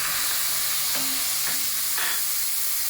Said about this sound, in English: Stir your onions continuously so that it doesn't get burned.